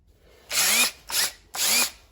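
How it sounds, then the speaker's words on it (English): A power drill bores a tap hole into a maple tree for syrup, running in three loud whining bursts of about half a second each with short pauses between, close by and with no talk. "Crank her up to drill."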